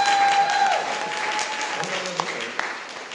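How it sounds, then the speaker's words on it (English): Crowd applause for a young fiddle contestant at a western open fiddle competition, steady clapping from many people, with a lingering tone at the start and scattered voices and cheers underneath. "Let's give Aven a big round of applause."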